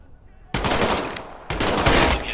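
Gunfire in the Medal of Honor video game, with two loud, sharp bursts of rapid automatic fire after a quiet start, each lasting about a second.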